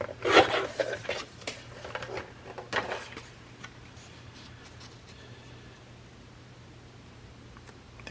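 Scissors snip through a fabric scrap at a sewing table, a few quick close cuts in the first three seconds, then a quiet room hum with no talking.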